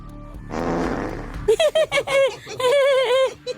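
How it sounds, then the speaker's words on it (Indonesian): A loud, close fart sound starts as a low rumbling blat and then breaks into a string of sputtering, tonal bursts with a wobbling pitch, heard alone without talk. "Suara siapa itu yang kentut?"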